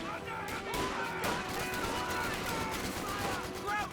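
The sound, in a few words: gunfire from units in Company of Heroes 2 video game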